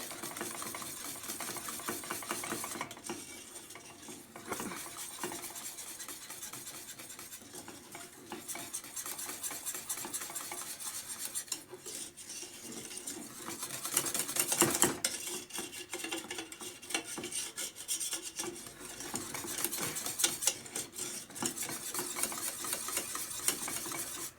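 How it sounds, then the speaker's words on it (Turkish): Thickening cream and cornstarch custard being stirred in a pot for a no-bake cheesecake, a continuous soft scraping and whisking with irregular utensil clinks against the pot, fairly quiet and steady throughout. "kremamız koyulaşıp muhallebi olana kadar karıştırarak pişirmeye devam edeceğiz"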